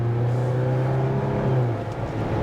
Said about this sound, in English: You can hear a little bit of the engine noise